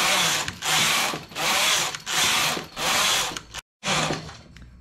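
A knitting machine carriage runs back and forth across the needle bed knitting a short-sleeved sport-collar top, giving four loud whirring mechanical passes with brief gaps between, then a moment of silence before another pass starts.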